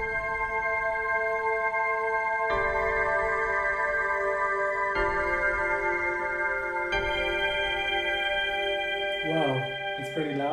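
A sustained synth chord from the Nada deep piece patch, triggered through Scaler 2 in Ableton, holds steady with bright harmonic layers and re-strikes every couple of seconds, ending with a wavering, warbling tail.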